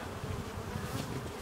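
Honey bees buzz steadily at an open hive during a honey harvest at a countryside centre, a dense close drone that stays even throughout with no voices.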